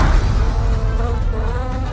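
A bee buzzes steadily and close up, a continuous droning hum that carries through the whole moment as it flies off, with no voices over it.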